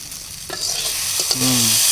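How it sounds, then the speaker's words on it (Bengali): Potatoes hiss and sizzle in a hot pan while being stir-fried, with a few scraping stirs, heard close and continuous, and a faint tonal hum near the end. "এই হচ্ছে আলুর ভাজা হচ্ছে"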